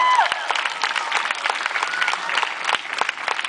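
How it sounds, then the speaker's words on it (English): An outdoor crowd at Federation Square in Melbourne applauds, with loud, dense clapping that continues steadily for a few seconds and has some sharper individual claps standing out. "So can we have a round of applause for Molly as she comes up to the stage"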